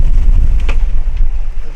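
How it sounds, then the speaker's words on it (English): Loud, steady wind buffets a 22ft Macwester sailboat sailing at sea, a dense low roar on the microphone with a few small knocks and rushes of water, and no voice during this short stretch. "the wind has died down a bit. It's been gusting 30 at times"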